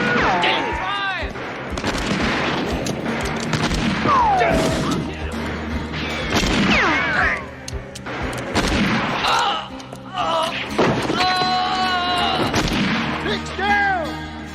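A film shootout from El Diablo (1990) fills the scene with loud, close gunshots and crashing impacts amid shouting voices, punctuated by a ricochet-like whine.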